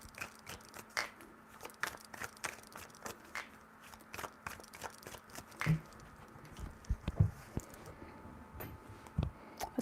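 Tarot cards shuffled by hand, giving a run of soft, uneven riffling and slapping crackles that come in quick bursts, close and fairly quiet, with no voices.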